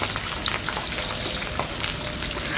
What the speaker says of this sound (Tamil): இந்த எண்ணெயில் இந்த பூண்டை ஒரு நிமிஷத்துக்கு நல்லா வதக்கி விட்டுக்கலாம்